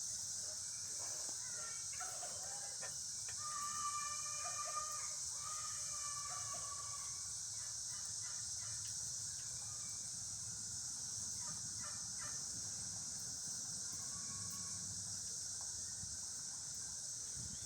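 Farm birds, emus among them, call out in a steady outdoor chorus of gobbling, fowl-like cries that overlap and repeat at mid distance over a constant high insect-like hiss.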